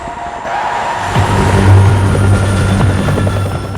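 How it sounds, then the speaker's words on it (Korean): Helicopter arriving in an action thriller film scene, a loud rotor thump and engine roar that swells toward the middle and stays heavy throughout, with no voices. "두 사람을 제거하러 온 헬기가 도착했죠."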